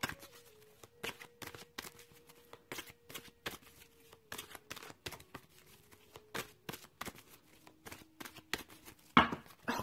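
A deck of Ask an Angel oracle cards is shuffled by hand in a long run of sharp, rapid riffle-like slaps with brief pauses, close and alone with no talking.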